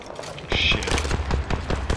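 Rapid bursts of video game gunshots, sharp repeated cracks close by over a busy game soundscape, with a voice speaking over the firing.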